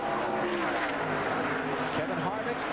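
NASCAR Winston Cup stock cars race at Darlington Raceway in the 2001 Southern 500, their engines a continuous loud roar beneath fast-paced race commentary.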